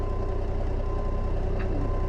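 Reversing beeps from a Peterbilt-style FLX 359 truck in American Truck Simulator, repeating steadily at moderate level over a constant low engine rumble.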